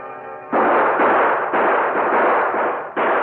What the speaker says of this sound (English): The Lone Ranger and Tonto saw the gunfire.